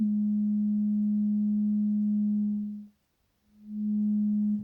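A steady pure sine tone from an analogue synthesizer holds, fades out briefly to silence near the middle, then swells back at the same pitch.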